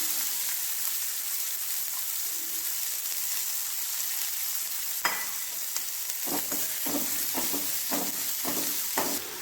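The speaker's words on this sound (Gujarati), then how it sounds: "ગ્રેવી માટે તેલ મૂક્યું છે અને તેલ આવી ગયું છે તો એમાં નાખીશું થોડીક હિંગ અને આ ગોબી છે ચોપ કરેલી એ નાખી દઈશું" Asafoetida and chopped cabbage frying in hot oil for a Manchurian gravy, a steady loud hiss broken near the middle by a sharp burst and then a run of quick stirring scrapes.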